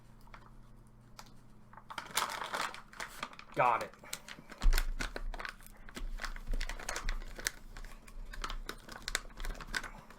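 A whole-bean dark roast coffee bag with a glued seal is pried open by hand, producing crinkling, rustling and a sharp tearing pull, mixed with tapping clicks and a short spoken remark.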